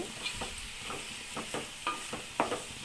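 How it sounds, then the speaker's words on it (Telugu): Onions frying with salt in a pan, a soft sizzle with quiet stirring scrapes at irregular intervals, close and fairly faint, no talk. "ఉప్పు వేసుకుంటే ఉల్లిపాయలు తొందరగా వేగుతాయండి"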